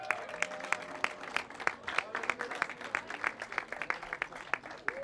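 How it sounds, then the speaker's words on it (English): A crowd at a youth karting awards ceremony in Al Ain applauds with dense, crisp clapping that rises and falls slightly, steady throughout the clip and fairly close. "Please give a huge round of applause to third place in Mini under 10"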